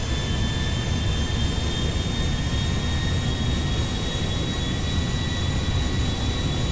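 Embraer E175 E2 jet engines in GTA 5, a continuous loud roar with a steady high whine, unbroken and alone throughout.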